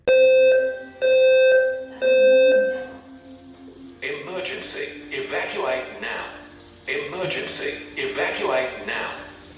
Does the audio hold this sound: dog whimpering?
no